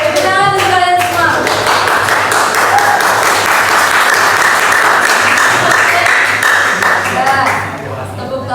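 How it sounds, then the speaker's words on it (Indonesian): Sustained applause from a crowd, steady and dense for most of the clip, with a few voices and whistles mixed in before it tapers off near the end. "tepuk tangan secukupnya, jangan berlebihan"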